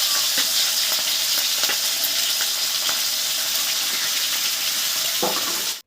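Ground onion paste with cumin fries in refined oil for a bitter gourd curry, a loud continuous sizzling hiss close by with faint intermittent clinks and stirs, no talking.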